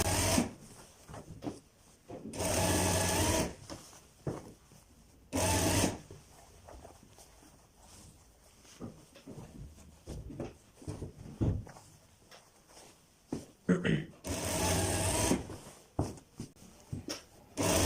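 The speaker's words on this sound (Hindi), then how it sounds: "आपने एक साइड से स्टिचिंग का आगाज़ करना है और दूसरे एंड तक आपने इसको ले जाना है" A sewing machine runs in three short bursts while stitching a kalidar kurta seam, each burst a loud, fast whirring rattle, with quieter handling and fabric sounds between them.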